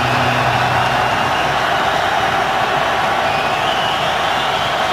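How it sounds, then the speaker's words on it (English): A Buffalo Bills home crowd at a 2013 NFL game against Kansas City roars in a steady, loud, sustained wash of noise that holds unbroken from start to finish. "the Buffalo crowd is trying to get their defense to come up with a big play"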